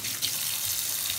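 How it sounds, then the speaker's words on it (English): Tap water runs steadily into a laundry-room sink being rinsed before cleaning a trumpet, a continuous close hiss and splash with no voices. "run some water"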